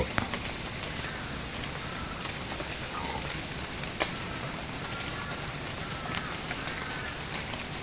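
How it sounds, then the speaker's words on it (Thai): Steady rain falls around an elevated forest hide, a dense continuous hiss with scattered sharper drip ticks, unchanging in strength and with no voices. "ฝนตก"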